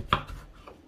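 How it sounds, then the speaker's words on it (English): A knife chopping vegetables into chunks for Jamaican chicken foot soup, a single crisp, close chop on a cutting board followed by a softer knock. "So we're gonna cut these into chunks."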